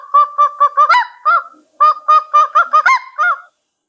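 A young schoolgirl imitates a domestic hen, giving two bouts of rapid, nasal clucking bursts that rise into short squawks, loud and close, with a brief gap between them.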